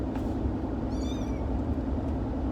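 A kitten gives a single short high meow amid a constant low engine-like drone and background noise, fairly faint and brief, with no talk.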